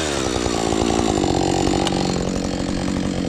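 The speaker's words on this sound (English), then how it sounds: "You see how I'm probing with the saw, moving it back and forth?" Chainsaw cutting a log on a forest trail, loud steady high-revving buzz as the saw probes back and forth through the wood, close and continuous with no talking.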